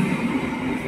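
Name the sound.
through train passing the station platform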